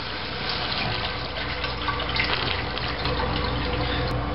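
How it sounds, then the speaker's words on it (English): Water runs steadily and continuously into a toilet tank, a close, even rushing hiss that never stops because the float is not rising to shut off the water. "the water keeps running because the float is not coming up and shutting off the water"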